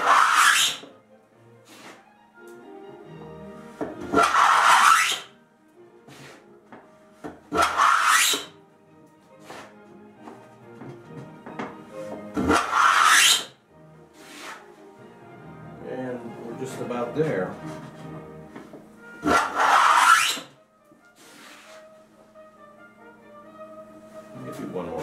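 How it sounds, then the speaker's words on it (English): A hand tool works a dado into wood for traditional molding made with hollows and rounds, rasping in a few loud, separate bursts between quieter stretches of softer scraping and handling. "So that's what I'm doing here, is cutting a dado"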